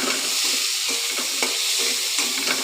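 Chicken and yam stirred in a pan with green chilli paste, giving a steady sizzle and scraping stir strokes that repeat in loose rhythm, close and continuous with no talking.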